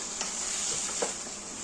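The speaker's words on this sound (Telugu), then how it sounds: "వాటర్ వేసుకున్న తర్వాత మిక్స్ చేయాలి." Chicken gravy is stirred in a pan just after water has been poured in, a steady sizzle running throughout with a few soft scraping strokes of the spoon, close by and with no voices.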